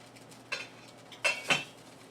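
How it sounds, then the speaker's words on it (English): A spoon scrapes and clinks against a pot while chicken pot pie filling is stirred, three short metallic strokes close by over a quiet background. "I'm going to stir it."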